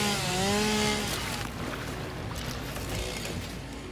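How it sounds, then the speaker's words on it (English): A chainsaw cutting in the video game Satisfactory gives a steady, loud mechanical buzz that drones on without a break and eases slightly after the first second. "Where's my chainsaw? Here we go."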